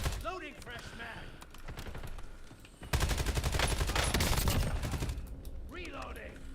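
Rapid gunfire in the video game Warzone: dense, loud bursts of automatic shots crackle continuously, with a brief lull before a heavier barrage, while a voice talks at the start and end.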